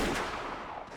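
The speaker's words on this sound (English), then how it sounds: "They certainly heard the crisp sound of gunfire ring out once." One gunshot rings out in a murder-mystery visual novel game, a loud broadband crack with a decaying tail filling the brief moment, no voices over it.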